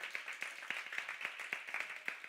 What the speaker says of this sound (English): Let's give Borg Hill a big round of applause.